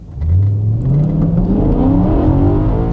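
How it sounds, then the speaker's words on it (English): A BMW E92 M3 engine revs hard and climbs steadily in pitch as it accelerates from a pull-away, loud and close throughout. "Let's not launch it as such, but just do a quick pull away"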